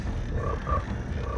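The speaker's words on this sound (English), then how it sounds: "Hate that frog." Frog croaking in the video game Jak and Daxter: a few low, throaty croaks over a rumbling game background, moderately loud and close, with no talking.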